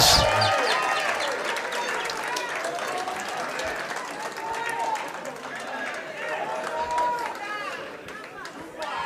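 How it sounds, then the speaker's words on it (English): A crowd at a Kenyan political rally claps and cheers for Raila Odinga, a broad, sustained wash of applause with voices rising through it. "Another loud of applause for Baba wa kila mtu."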